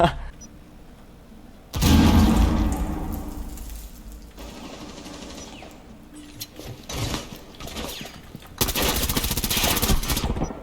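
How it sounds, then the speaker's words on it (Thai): Loud bursts of automatic gunfire crack out in Rainbow Six Siege, arriving in several intense stretches separated by quieter moments. "โอ้ยิงไม่โดนเลย"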